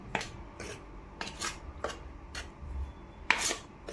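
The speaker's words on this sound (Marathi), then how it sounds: "तेल गरम आहे त्यामुळे मी चमच्याने थोडंसं मिक्स करत आहे" A spoon scrapes and clinks against a metal bowl while hot oil is worked into flour dough, giving several separate sharp scraping strokes at an uneven pace, close and moderately loud, with no talking.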